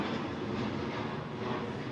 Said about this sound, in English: So now there's an airplane going over. It might be a little bit loud.